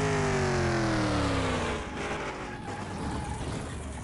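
A Ford GT40 in Car Mechanic Simulator 2021 accelerates in fourth gear, its engine note climbing steadily in pitch, loud and close, then dropping into a rougher, lower roar as it eases off.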